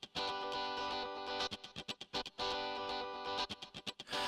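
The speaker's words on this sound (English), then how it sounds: "The guitar is already using one of the 4 insert effects, a distortion effect." Guitar voice with a distortion insert effect on a CAF Inneo BM3 arranger keyboard, playing loud sustained distorted chords broken by choppy staccato stabs in a repeating pattern, with no talking.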